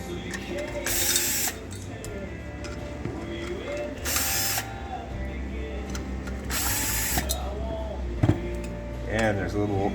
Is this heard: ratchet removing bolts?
yes